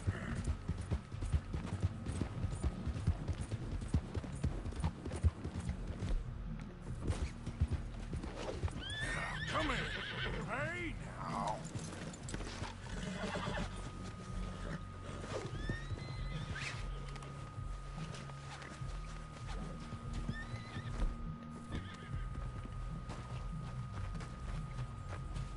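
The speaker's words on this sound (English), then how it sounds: "I'm gonna go chase after this horse." Horse in Red Dead Redemption 2 gallops with steady clip-clop hooves, giving several loud whinnies and neighs over continuous outdoor game ambience near a beach.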